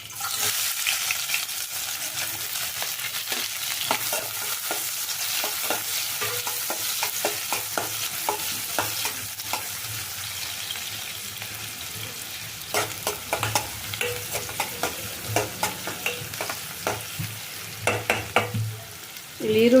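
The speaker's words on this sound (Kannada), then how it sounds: "ಈಗ ಎಣ್ಣೆ ಕಾದಿದೆ, ಈರುಳ್ಳಿ ಹಾಕ್ಕೊಳ್ತೀನಿ." Chopped onions fry in heated oil for a vegetable gravy, giving a continuous close sizzle with frequent stirring clicks and scrapes that grow sharper and more frequent toward the end. No one speaks.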